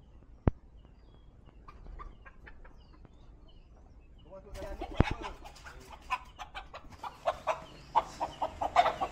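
A sharp tap, then quiet, before a flurry of chicken clucks and squawks builds up, growing busier and louder toward the end.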